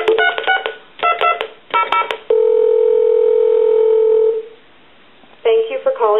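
A telephone being repaired dials a number: three quick bursts of touch-tone beeps, then a long steady tone for about two seconds, a short silence, and another burst of tones starting.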